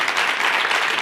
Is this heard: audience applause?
yes